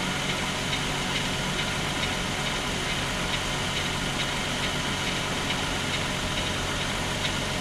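A 2000 VW Eurovan engine idles as it warms up, a steady, fairly quiet hum with a faint, even low-pitched drone throughout and no voices.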